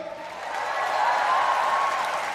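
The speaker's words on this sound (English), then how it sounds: "a huge round of applause to everyone, especially All India Bakchod." Audience applause at a comedy roast show, a sustained swell of clapping and crowd noise that builds and holds, with faint voices mixed in.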